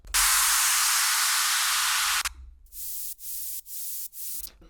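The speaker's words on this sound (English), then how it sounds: "2 downlifters and 1 white noise in the background" A long burst of bright white-noise hiss cuts off abruptly, then several shorter swelling noise sweeps fall away, one after another, like synthesized downlifters leading into an EDM drop.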